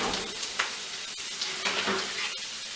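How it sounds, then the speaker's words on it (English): Paleo meatballs cook in a skillet with a continuous bright sizzle and crackle, broken by a couple of faint taps, close and fairly loud with no voices. "So now our meatballs in the skillet are almost done cooking"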